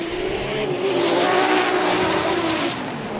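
Drift cars in competition at a drift event in Vladivostok, one Toyota-powered and one Nissan-powered, with a loud sustained engine whine wavering in pitch over hissing tire squeal, close by and without talk.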